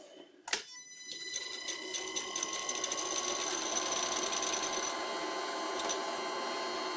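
An old wood lathe turning a metal workpiece at about 500 RPM: one sharp clunk, then a steady, close mechanical whine with a rattling buzz that builds and holds evenly.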